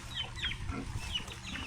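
A large chicken clucks in quick repeated calls near a Philippine fiesta market, heard close over a background of rushing water and ambient noise.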